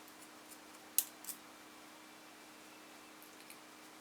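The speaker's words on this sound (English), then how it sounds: "And then I just snip it off." Scissors snipping off a strip of fabric while a crochet rag rug is made, two quick close crisp cuts in an otherwise quiet room, followed by faint small handling sounds.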